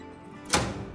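A hinged door on a medium-voltage switchgear panel closes with a single dull thunk midway, ringing briefly before fading into a low background hum.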